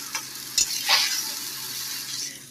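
Leftover rice and vegetables frying and being stirred in a pan, giving a steady close sizzle with a few scraping stirs and light clinks throughout.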